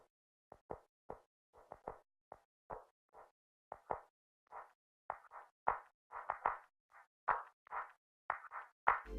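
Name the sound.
chopped clap loop from Ecology drum kit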